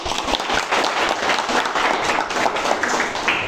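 Applause from a class of students during an Indonesian language lesson, a steady dense patter of many hands clapping together for the full few seconds, fairly close and loud with no talk over it.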